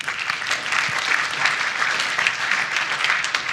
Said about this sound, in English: Round of applause for him and Sean.